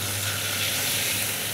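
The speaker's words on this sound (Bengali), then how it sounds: "এই যে মাছ ভাজা হচ্ছে" Fish frying in hot oil in a pan gives off a steady, dense, close sizzle that keeps up without a break for the whole short stretch, with no voices.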